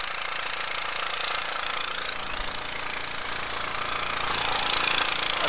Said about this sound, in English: Now this other pump down here, that's pumping into the road.